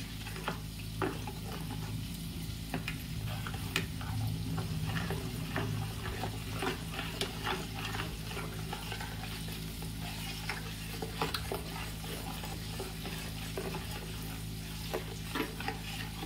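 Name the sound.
stirring water with a spoon in a pan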